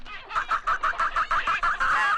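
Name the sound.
chickens clucking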